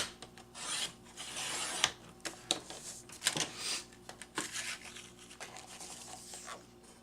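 A blade slices paper cardstock for folded stamped cards, giving a series of quiet rasping, scraping strokes with a few sharper snaps, close up and alone.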